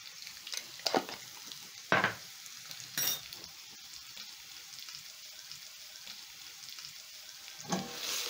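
Breakfast potatoes seasoned with thyme, garlic powder and salt, tossed in a hot pan: a faint, soft sizzle runs underneath while a few sharper clinks and scrapes of the tossing stand out now and then.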